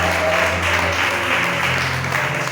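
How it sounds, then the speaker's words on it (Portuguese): Church congregation applauding during a Portuguese-language service, a steady, loud, unbroken wash of many hands clapping with faint sustained tones underneath throughout. "Você pode aplaudir esse Deus."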